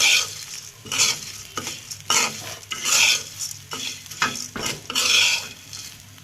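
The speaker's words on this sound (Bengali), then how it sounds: "এবার এর মধ্যে মুড়িটা দেবো" Puffed rice with salt is stir-fried in a pan, rhythmic rough scraping strokes of a spatula against the metal with a rustling, crackling texture, close and loud, repeating about every second.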